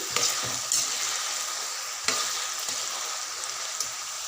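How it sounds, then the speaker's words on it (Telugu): Potato pieces deep-fry in a kadai of oil with a loud, dense sizzle, broken by a few sharp scrapes and knocks as they are stirred, close and continuous. "ఇలా మధ్య మధ్యలో కలుపుతూ డీప్ ఫ్రై చేసుకోవాలండి"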